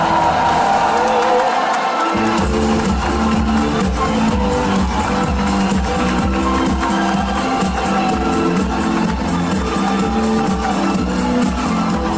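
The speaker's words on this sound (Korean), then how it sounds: "뜨거운 박수로 맞이해 주시기 바랍니다." A large indoor crowd at a political rally in a gymnasium cheers, whoops and applauds continuously and loudly, swelling after a brief quieter start, with shouts mixed into the sustained roar.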